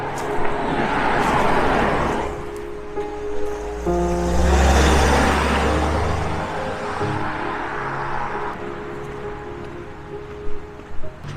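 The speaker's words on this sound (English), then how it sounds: "Traffic's a little bit busy today." Cars pass one after another on a busy country road near a humpback bridge in a Suffolk village on a Sunday afternoon, with a steady close roar of tyres and engines and rising and fading swells, heard on foot.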